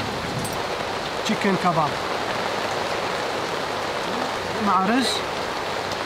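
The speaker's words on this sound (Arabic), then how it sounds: "بلش المطر ولا تخافون" Rain falls steadily outdoors in Bukovel, Ukraine, a constant broad hiss of drops on surfaces while someone talks over it.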